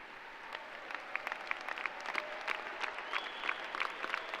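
Steady applause from a large audience at a university undergraduate commencement ceremony, a dense patter of many hands at moderate loudness that holds evenly throughout.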